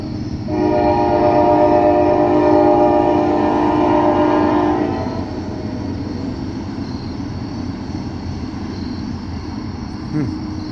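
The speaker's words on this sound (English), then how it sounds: "I love the sound of trains." A train passes near the 40th Street Bridge at Washington's Landing in Pittsburgh, its loud multi-tone horn blaring for several seconds before fading into a steady rumble of rolling wagons.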